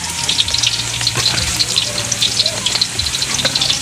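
Meat frying in a pan gives a loud, close, steady sizzle with crackling pops, while a voice talks over it.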